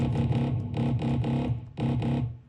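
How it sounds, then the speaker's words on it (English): A growling, distorted synth bass made with FL Studio's 3xOsc plays in repeated bursts with a short gap, a wash of reverb trailing each phrase and fading out at the end. "Let's add a little bit of reverb if you want."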